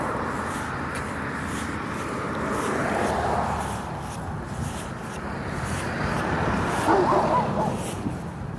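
A dog barks and yips amid steady, broadband background noise, the sharpest calls coming near the end.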